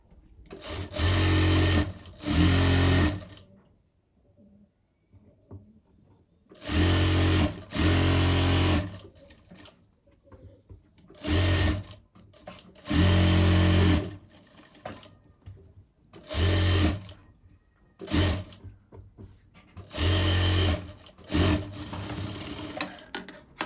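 A sewing machine stitches a sleeve-cut blouse in bursts, running about nine times in short, loud clattering runs separated by brief pauses. The pauses hold quiet handling noise and no talk.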